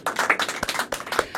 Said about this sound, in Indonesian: Tepuk tangan dulu buat Elwan.